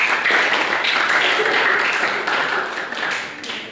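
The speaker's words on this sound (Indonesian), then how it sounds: "Beri aplaus semuanya." Applause from a classroom audience at an Indonesian Pancasila education class session, a steady wash of clapping hands that holds for a few seconds, then thins and fades toward the end.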